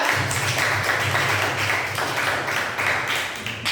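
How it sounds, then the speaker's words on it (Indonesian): An audience applauds after a group presentation, a steady wash of many hands clapping at close range that fills the whole stretch without a break. "Ya, beri tepuk tangan untuk Bapak ya."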